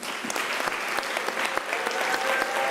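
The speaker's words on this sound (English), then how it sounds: "we would like all of us to give you a round of applause" Audience applause rings out at a university graduation ceremony, a dense, steady wash of many hands clapping for nearly three seconds with no speech over it.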